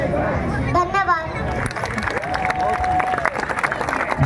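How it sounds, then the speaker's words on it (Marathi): A crowd claps and chatters for a young girl who has just performed a Tarabai (Tararani) speech, dense broadband applause steady throughout with a brief voice near the start and a tonal whistle-like line in the middle. "जोरदार टाळ्या वाजतच राहिल्या पाहिजे"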